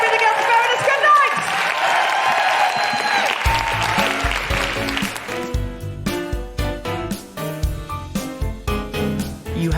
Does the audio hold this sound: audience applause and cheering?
yes